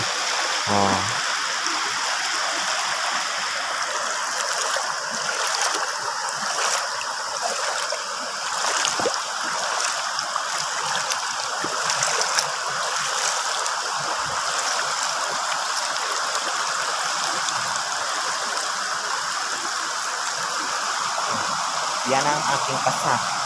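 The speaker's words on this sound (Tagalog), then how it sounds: "Malinis ang ilog na to." A clean river stream flowing steadily nearby, with a continuous broad rushing of water that does not let up and a faint voice now and then.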